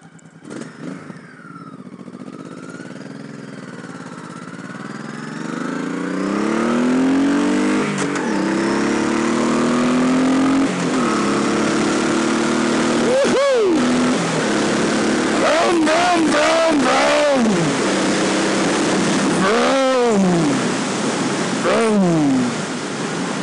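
A 2007 Honda Sabre 1100 V-twin motorcycle starts after a few brief sounds, then idles with a mellow, throaty rumble and is revved several times, each rev rising and falling close by.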